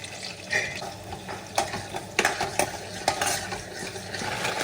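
Chopped onions stirred in a hot pan while Maggi noodles are being made, giving a steady frying hiss with scattered scraping clicks of a spoon against the pan, close by and fairly loud.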